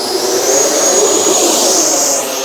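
An FMS Avanti S 90mm RC jet takes off. A loud, close, steady high-pitched turbine-like whine roars without a break for a couple of seconds.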